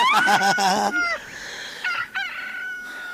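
A rooster crows loudly nearby, followed by shorter repeated cackling calls from chickens.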